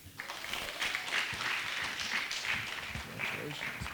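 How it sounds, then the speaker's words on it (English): Moderate applause from the audience at a physician's oath ceremony as a graduate is called, scattered clapping continuing steadily at medium distance with some crowd murmur and possible voices. "Nice applause."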